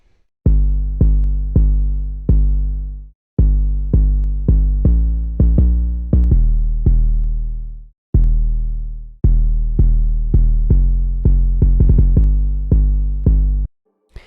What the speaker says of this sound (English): So the 808 sounds like this